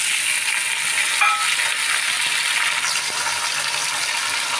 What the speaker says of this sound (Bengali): একেবারে সামান্যভাবে নাড়াচাড়া করে নিয়েছি